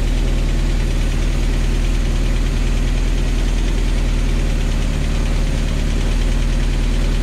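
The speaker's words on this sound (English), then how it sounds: "We'll give it a few minutes and" A 1977 Rover P6 2.2TC engine idles steadily while warming up, a loud, even, close-miked rumble with a faint knocking pulse running unbroken for about seven seconds.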